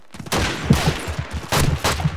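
Rapid pistol shots crack out in Call of Duty 2, a loud, close run of sharp reports in uneven bursts with brief gaps, like a firefight.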